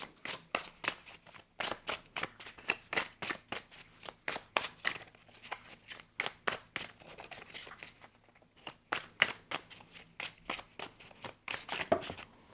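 Rapid, crisp riffling of playing cards, repeated in quick bursts with a brief pause midway, close and fairly loud, no voices.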